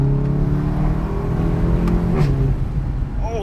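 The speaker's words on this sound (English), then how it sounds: "that free flow exhaust just makes, oh man, this thing sounds incredible" A 2016 VW Golf GTI Clubsport with a free-flow exhaust revs from inside the cabin, a steady loud engine drone with rising pitch near the end, continuous and close without any voices.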